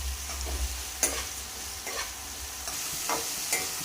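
Onions and tomatoes sautéing in a pan for wheat upma, a soft background sizzle broken by several distinct scraping stirs at a regular pace, close by, with no speech.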